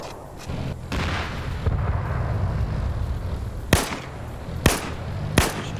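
A rocket fired at an enemy in a multiplayer shooter game: a rumbling launch and roar, then three sharp, loud blasts spaced about a second apart, with no talk.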